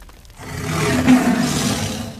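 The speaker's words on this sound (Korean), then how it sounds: "하늘이 찢어지는 듯한 포효가 모든 소리를 집어삼켰습니다" A thunderous, drawn-out roar from a huge wild beast, loud and close, swelling after a brief quiet start and holding steady for about two seconds with a rough, growling core.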